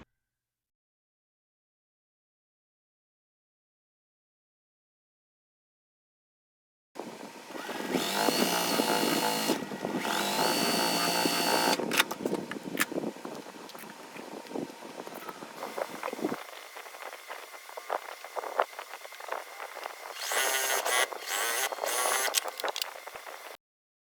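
After several seconds of silence, a sewing machine stitches quilt pieces in close, steady bursts of fast mechanical whirring, with brief pauses between runs.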